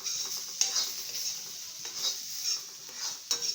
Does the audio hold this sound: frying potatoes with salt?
yes